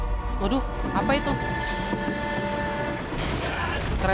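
A zombie train in the shooter game Zombie Army 4: Dead War rumbles past with sustained horn-like tonal blasts over constant rolling rail noise, loud and continuous, with game effects mixed in.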